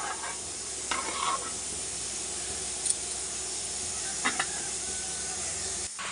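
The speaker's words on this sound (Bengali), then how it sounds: "যে ভাজা হয়ে গেছে আমি জল দিয়ে দিলাম" Water hitting a hot pan of fried food raises a strong, continuous sizzling hiss, with a few brief stirring scrapes and clinks on top, close up and without talk.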